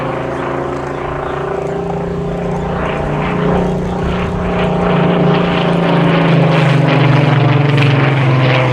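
A Supermarine Spitfire PR in wartime blue photo-reconnaissance colours flies past at the Midlands Air Festival, its propeller engine a loud, steady droning roar that swells slightly as it nears, alone without voices.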